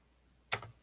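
A single crisp mouse click sounds close and quiet, a short double tick standing alone against a near-silent background while working in data visualization software.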